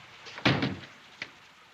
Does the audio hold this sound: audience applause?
no